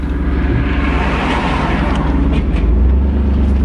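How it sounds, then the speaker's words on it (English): The engine of a 1991 Pontiac Firebird Formula WS6 runs steadily with a deep, rumbling note, loud and close, with no voices over it. "Car's running good."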